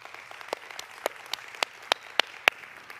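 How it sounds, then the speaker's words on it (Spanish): A church congregation applauds, heard as a sparse run of separate sharp claps at a steady pace over a faint background, fairly quiet and with no talking. "¿Se animan a aplaudirlos a ellos?"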